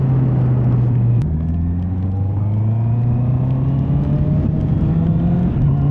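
A new motorcycle out on a test ride, its engine droning loudly and steadily, with the pitch rising through a gear change as it accelerates.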